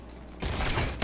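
Enemy gunfire in Batman: Arkham City, a sudden burst of rapid shots erupting after a quiet moment and ending in a sharp crack, loud and close with no talk.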